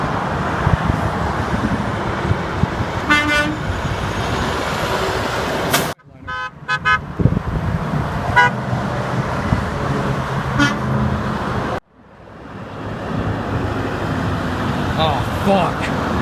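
Passing trucks on the I-10 highway sound several multi-pitch horn blasts over loud, continuous traffic roar, with abrupt cuts between separate passes and a fainter toot near the end.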